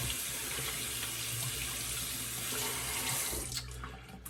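Tap water runs steadily into a sink while hands are rinsed before shaving, a continuous close splashing hiss that eases off near the end.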